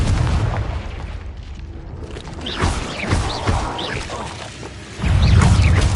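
Spell blasts crack and boom in the video game Hogwarts Legacy as the Bombarda spell explodes amid combat, several heavy impacts and crashes with a deep rumble swelling near the end.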